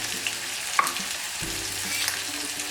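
Crushed ginger, chopped onion and green chili sautéing in hot oil with cumin, a close crackling sizzle with stirring scrapes and a light clink or two, no talking.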